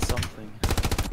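Rapid bursts of MG 34 machine gun fire in the Hell Let Loose battle at Utah Beach, loud and close, pausing for a moment before resuming in a steady, rhythmic volley.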